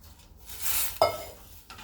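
Buttermilk poured into a pan of hot spice tempering gives a brief sizzling splash followed by a single sharp clink of a pan or utensil, quiet and close, with another soft knock just after.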